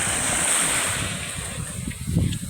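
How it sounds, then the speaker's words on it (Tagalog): Gentle sea waves on a calm sea beside the mountains of Barangay Dimanayat, San Luis, Aurora, a steady soft wash of surf with light wind rumbling against the microphone throughout. "Kalmado ngayon ang dagat."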